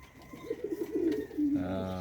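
Pigeons coo in a rolling series of soft, low, throaty calls, close by and fairly faint, building into a fuller, steadier coo toward the end.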